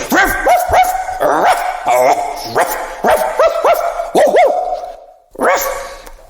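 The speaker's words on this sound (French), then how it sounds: "Les chiens aboyaient." Several dogs bark and yip repeatedly in quick bursts, loud and close, with some whiny, high-pitched yelps mixed in.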